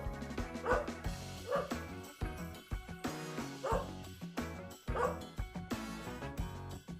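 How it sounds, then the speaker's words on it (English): A dog barks repeatedly in a regular rhythm, about four to five sharp barks over a dense, busy backdrop. "Dog."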